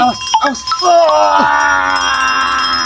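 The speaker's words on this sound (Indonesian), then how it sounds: "Jangan kau nyalakan lonceng naga tersebut." A dragon bell is struck and rings out with a loud, sustained metallic tone that hangs and slowly fades, following a few short voiced sounds.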